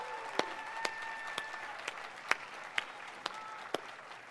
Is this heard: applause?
yes